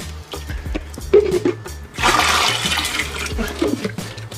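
Water pours into a plant feeding reservoir for a cannabis grow, a loud splashing gush that swells midway and keeps running, with a faint voice and low background hum.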